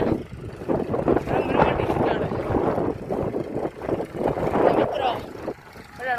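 A tractor's steady engine drone rumbles close by in a field with wind buffeting the microphone, while a person talks over the noise.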